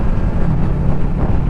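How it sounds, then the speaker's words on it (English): Constant low roar of wind buffeting a helmet microphone on a motorcycle ride, loud and steady with no other sounds standing out. "if only the wind would drop"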